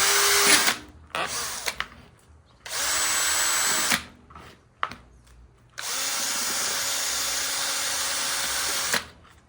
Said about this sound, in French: n'ayez pas peur de percer. De faire des trous d'évacuation.